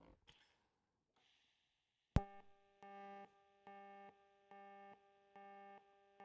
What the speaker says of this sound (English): you can tell even now, just quite a bit different sound to that pulse